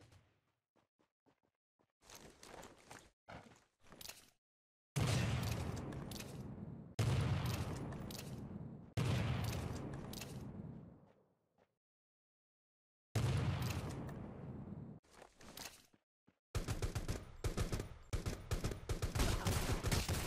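Bursts of gunfire from the battle royale game Rules Of Survival, with a few scattered shots followed by several sustained volleys of rapid automatic fire and a dense final stretch of shooting, loud and without talk.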